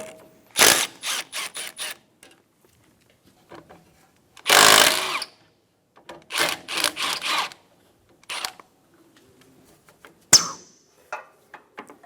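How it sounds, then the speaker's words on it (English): A tool removing 10mm bolts with a socket from the AC condenser fittings on a 2013-2017 Honda Accord, short bursts of whirring and clicking separated by quiet pauses, close up with no talking. "Using a 10mm socket, remove the bolts out of the two fittings."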